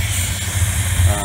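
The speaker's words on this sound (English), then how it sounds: "now I'm gonna feed the CRC cleaner directly into this" CRC intake valve cleaner sprays into an engine's vacuum line, a loud continuous hiss close up over a steady low idling hum, with a brief change near the end.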